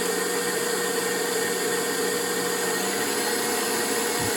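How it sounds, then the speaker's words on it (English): A KitchenAid stand mixer motor runs loud and steady, a dense even whine that continues without pause through the stretch as it is stepped up through its speeds. "You can hear the progression in speed all the way up."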